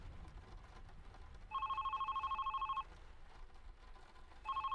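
Telephone ringing in the video game The Red Strings Club, two bursts of rapid trilling rings separated by a pause, moderately loud over a quiet murmuring background.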